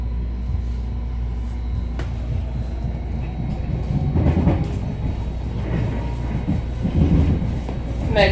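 A MARTA Red Line subway train in Atlanta rumbles southbound along the rails toward the airport with a steady low roar, occasional clacks and rattles, and swells of louder screeching toward the end.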